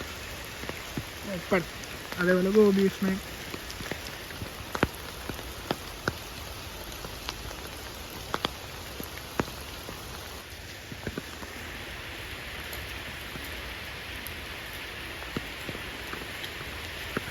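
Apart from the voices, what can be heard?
heavy rain at elephant camp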